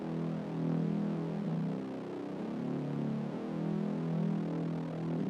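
A mid-low synth pad with its stereo width narrowed to 40%, sounding as a steady, sustained hum that swells gently and evenly throughout, alone with no voices.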